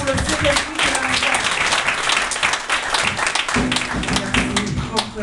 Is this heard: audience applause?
yes